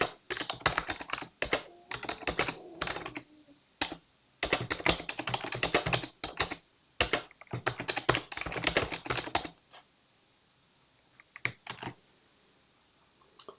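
Fingers type on a computer keyboard while someone updates a workflow request: bursts of quick, close key clicks separated by short pauses, trailing off into a few scattered taps near the end.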